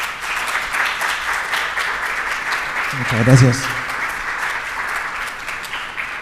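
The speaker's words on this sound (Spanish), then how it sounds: "Solo me queda pedir un fuerte aplauso para nuestros 4 panelistas" Applause for four panelists at a forum on merger law, a steady crowd clapping that carries through the clip while someone speaks briefly over it near the middle.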